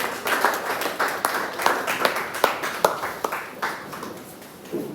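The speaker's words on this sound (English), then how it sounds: "Please, more round of applause." Audience claps at the close of a keynote address at an anniversary event, a fairly sparse, uneven patter of hands with distinct individual claps rather than a dense roar, moderately near.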